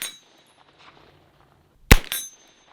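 CMMG MK10 Banshee 10mm PDW fired from a bench, one sharp loud crack with a quick metallic ring and echo after a faint earlier report.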